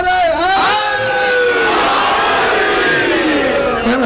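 A crowd at a Shia religious gathering shouts slogans for Ali, loud massed voices rising and falling in long sustained calls that fill the space and stay close.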